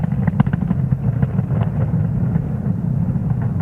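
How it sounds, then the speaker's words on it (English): A SpaceX Falcon 9 lifts off from Space Launch Complex 40 in a loud, continuous low roar with crackling texture that stays heavy and steady throughout. "with that successful liftoff of our Falcon 9 vehicle"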